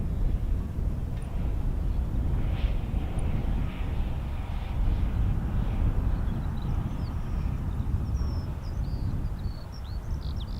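A KC-135 Stratotanker flies over as a steady, loud, broadband roar that holds evenly throughout, with faint bird chirps above it near the end.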